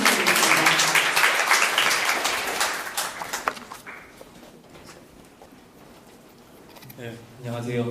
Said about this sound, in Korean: 한 박수 부탁드리겠습니다.